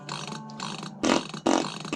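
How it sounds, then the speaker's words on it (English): A fart-like sound effect in the King's Quest 6 adventure game as a mechanical nightingale is wound up: a softer tonal passage, then two loud, rasping bursts close together. "Sounds like he's farting."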